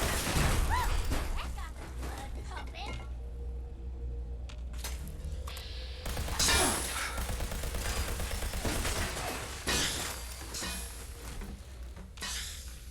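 A Fallout 76 shootout erupts in rapid bursts of gunfire and sharp impacts, loud and close, with short gaps between volleys and some voices mixed in.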